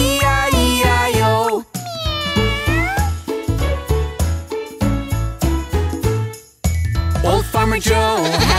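A singing voice imitates cat meows in the nursery rhyme Old MacDonald over a bouncy children's tune with jingling percussion, loud and continuous.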